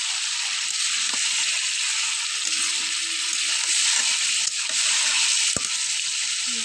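Masala for chicken korma fries in oil with a steady, close, bright hiss, broken by occasional sharp clicks of a spoon against the pan.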